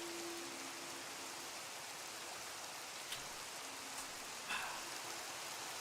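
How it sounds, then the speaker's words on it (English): Steady, soft rain falls in the video game Minecraft, a constant hiss of drops with a few faint ticks and no talking. "So it's still actually raining."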